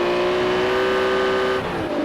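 A race car in a racing game at Knockhill spins donuts in the spectator section near the hairpin, its engine droning loud and steady, then shifting pitch near the end, alone without talk.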